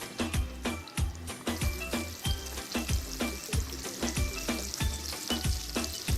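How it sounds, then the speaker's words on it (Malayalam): A batch of peri peri chicken deep frying in hot oil, with a steady, loud sizzle broken by regular rhythmic bursts of bubbling and crackling throughout. "ഇനി അടുത്ത ബാച്ച് നമുക്ക് ഇതിലേക്ക് ഇട്ട് കൊടുക്കാം."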